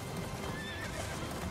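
A horse in the video game Attack on Titan 2 clip-clops and neighs in a brief burst of hooves and whinny over game background sound.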